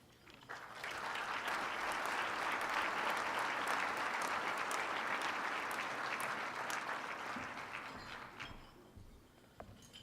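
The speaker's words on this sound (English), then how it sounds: "First of all, another round of applause." An audience at a city's annual state-of-the-city address breaks into sustained applause, a dense wash of clapping that swells quickly, holds for several seconds and then tapers off.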